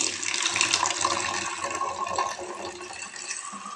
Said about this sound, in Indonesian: ini kita mau masukkan lagi air ke sini, kita saring lagi